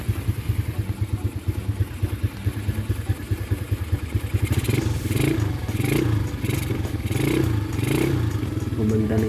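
A Honda Beat carburetor 130cc scooter with an upgraded camshaft and a power pipe exhaust idles close by with a rhythmic putter, then revs up into repeated louder blips.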